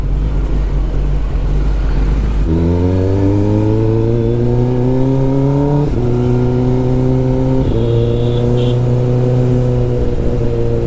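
A Kawasaki ZX10R engine revs hard and very loud at close range, with a low idle first and then rising, stepped pitch sweeps through the repeated throttle blips.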